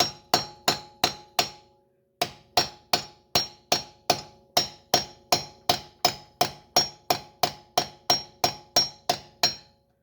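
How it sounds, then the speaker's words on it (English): A 9/16 socket is hammered into the bore to drive out the clutch pilot bearing on a K-series engine. Steady, evenly spaced metallic blows land one after another, close and loud, with a single brief pause. "Stick the socket into the hole and just start hammering away."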